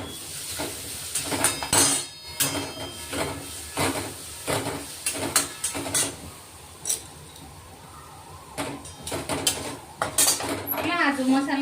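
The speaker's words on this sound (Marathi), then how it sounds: "हे सर्व मसाले आपण चांगले मिक्स करून घेणार आहे." Spice masala of chili and coriander powder being stirred in a metal kadai for a peanut amti, repeated scraping and clinking of a spoon against the pan in uneven bursts, close by, with a voice talking intermittently.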